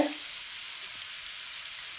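Fish frying in a pan in a home kitchen, giving a steady, even sizzling hiss that runs throughout at moderate volume, with no talking.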